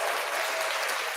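A short burst of dense clapping, as if from a crowd, breaks out on a talk show set just before its theme music, bright and steady for about a second.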